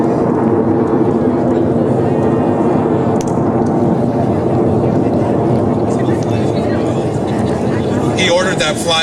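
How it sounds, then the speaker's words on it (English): Aircraft flying over an outdoor high school grand opening ceremony, a loud, steady broadband roar that holds throughout, with crowd voices and talking underneath. "He ordered that flyover for me."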